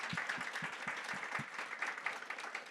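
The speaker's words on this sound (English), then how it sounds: "can we get a round of applause for this amazing panel?" A round of audience applause for a panel at a gender care event, moderately quiet and steady, with a crowd clapping together and a few low thumps near the start.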